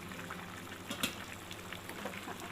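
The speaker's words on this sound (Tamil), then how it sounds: "நல்லா கொதிக்குது." Crab gravy simmers in a clay pot, giving a faint, soft bubbling with small pops and a brief louder burble near the middle, heard close and alone.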